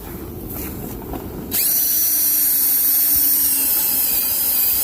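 A cordless drill drives self-tapping screws through the aluminum of a flatbed trailer. After a short bit of background noise, a loud, close, steady high whine starts and runs without a break for several seconds.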